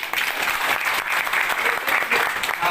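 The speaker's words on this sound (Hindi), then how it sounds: "जोरदार ताली होगा।" Loud, steady applause from a large audience at a public programme, dense clapping filling the whole stretch without a break.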